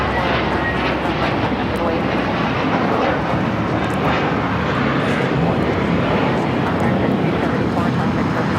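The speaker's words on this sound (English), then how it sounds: "This is American Airlines 274 taking off to JFK on the A321." American Airlines Airbus A321, flight 274 to JFK, taking off at Los Angeles airport with a loud, steady jet roar throughout, a voice talking over it.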